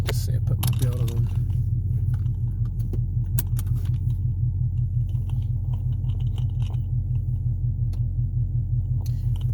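Dodge Charger driving, its engine a steady low rumble throughout with rhythmic pulsing, recorded from inside the car; brief clicks and rustles near the start.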